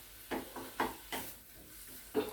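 Onions with ginger garlic paste being sautéed and stirred in a pan for paneer bhurji, giving a few separate scraping stirs over a quiet, faint sizzle with no voices.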